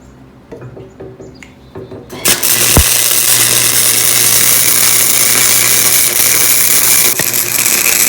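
Arc welding on heavier gauge steel: after a few quieter knocks, a loud, steady crackling hiss starts and holds close and continuous to the end.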